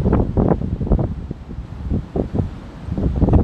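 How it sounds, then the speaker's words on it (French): Light wind gusting across the microphone on the bank of the Marne river, rustling in uneven buffets and lulls, fairly close and loud, no voices. "Il y a un petit vent là."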